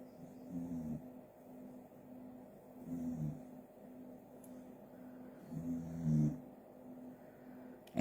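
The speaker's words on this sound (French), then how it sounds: "Et Maya qui est partie dans son ronflement du soir." A pet dog snores in a quiet evening room, three slow rumbling breaths spaced a few seconds apart, close and soft, with a steady low hum underneath.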